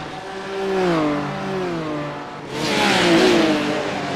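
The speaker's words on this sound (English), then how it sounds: "And that purple and black Ferrari heading into turn one." GT3 race cars, a Ferrari among them, roar through a racing video game corner, their engine notes rising and falling in sweeping pitches as they accelerate, with a second louder, brighter surge of engine noise arriving midway. No talking.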